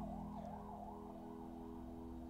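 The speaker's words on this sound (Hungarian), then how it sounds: "Nem, ez megint tűzoltó volt." A fire engine siren passes outside, wailing in a slow rising and falling sweep, fairly faint and distant over a low steady rumble, with no voices.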